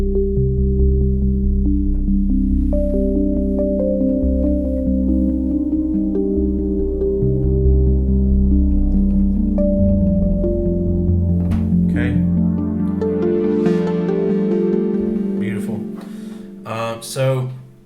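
Pearly Gates factory patch on a Yamaha Montage synthesizer plays sustained, layered chords with a steady tone, swelling brighter toward the end before fading out, heard alone without talk.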